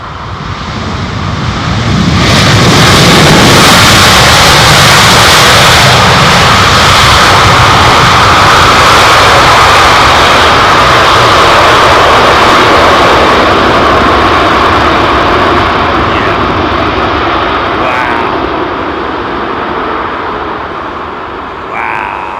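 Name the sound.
airliner, likely Boeing 787 Dreamliner, landing at Heathrow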